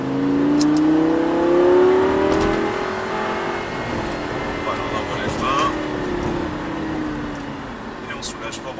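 A Lamborghini LP 560 accelerates out of a corner on a track, its engine note climbing in pitch and then easing back as it shifts, loud and close, with a voice speaking over it.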